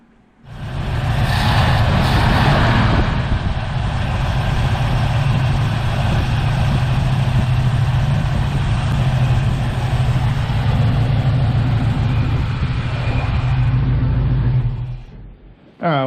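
A 1982 GMC Caballero (Elco) V8 cranks and fires up, settling into a loud, steady rumbling idle in a garage, running continuously for about fifteen seconds before shutting off abruptly.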